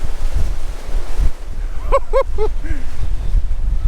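Sea waves roll in and crash over rocks along the shore, a steady broad roar mixed with wind buffeting the microphone, while a brief series of high calls cuts through midway.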